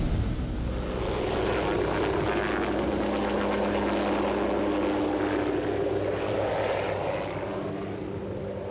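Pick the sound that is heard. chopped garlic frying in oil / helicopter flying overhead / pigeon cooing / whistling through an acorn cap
helicopter flying overhead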